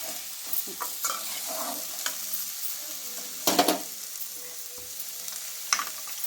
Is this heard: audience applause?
no